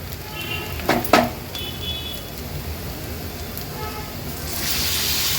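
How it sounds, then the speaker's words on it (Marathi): Ground spice paste fries in hot oil in a pan, giving a continuous soft sizzle with a couple of brief utensil clinks near the start, and the hiss brightens toward the end. "आता वाटण पण तेलावर छान परतून घ्यायचं आहे आपल्याला"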